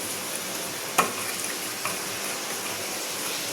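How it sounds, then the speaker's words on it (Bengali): Eggs seasoned with salt and turmeric frying lightly in oil in a wok, a soft steady sizzle with a sharp clink of a utensil early on and occasional stirring scrapes. "যে ভাপা করবো একটু হালকা সামান্য ভেজে নিই"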